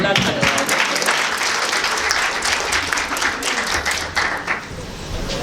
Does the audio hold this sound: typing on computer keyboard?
no